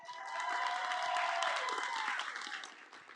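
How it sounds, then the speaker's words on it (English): An audience at a live women's event breaks into dense, sustained applause, many hands clapping together with a few faint cheers, swelling then tapering off. "Give my sis Natalie a round of applause."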